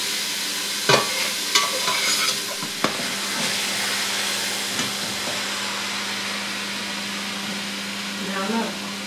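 Food sautéing in a home kitchen pan gives off a steady, fairly loud sizzle and hiss, broken by a few sharp utensil knocks early on and a soft voice near the end.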